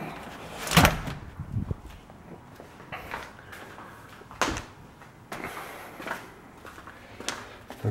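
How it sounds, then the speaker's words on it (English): A door closed in a workshop during piston and head decarbonizing work, giving a sharp thud near the start, followed by a few quieter knocks and bumps with low room noise in between. "Let's close the door."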